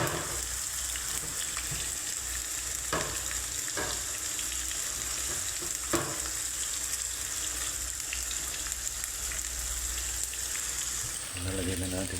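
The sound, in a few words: stirring moringa pods frying with tomatoes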